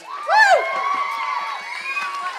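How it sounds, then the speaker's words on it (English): A crowd at an outdoor event, a Haka record attempt in Ireland, erupts in cheering and whooping that rises quickly and carries on steadily, with shouts and excited voices blending into a loud, sustained roar. "Can we have a round of applause, please?"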